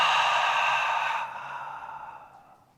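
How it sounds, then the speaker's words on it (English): A deep, breathy exhale during a beginner hip-opening yoga flow, strong at first and then fading gradually over about two seconds, close and unaccompanied. "Big inhale in through your nose. Exhale, let it go."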